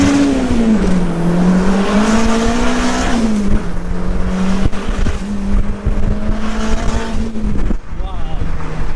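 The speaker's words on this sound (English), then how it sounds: "I'm boosting the Civic, bro." A boosted four-door Honda Civic accelerates hard through its gears, the engine rising and shifting in a steady loud drone with intake and road noise inside the car, while people talk and react over it.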